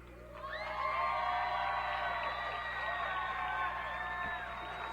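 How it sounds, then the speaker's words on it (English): A crowd at a Wheaton women's soccer senior recognition cheers and whoops for several seconds, a steady swell of voices that rises quickly, holds, then eases slightly toward the end. "Let's have one more round of applause for these tremendous ladies of the Wheaton soccer team"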